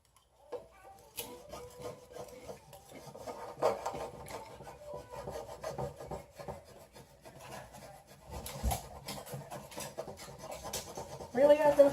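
Scratchy rasping and rubbing on a wooden sign at a sign-making party, steady and close with a few sharper scrapes, under quiet chatter and table bumps.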